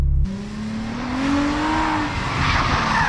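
A car drifting through a corner on a practice track, engine droning and rising while the tires squeal in a long sliding whine, loud and close, after a brief opening burst.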